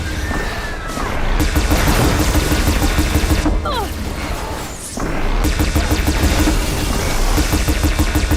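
Sustained gunfire from Aloy's weapon in the video game Horizon Forbidden West, a dense, rapid barrage of loud shots with crashing impacts that pauses briefly around the middle before resuming at full intensity.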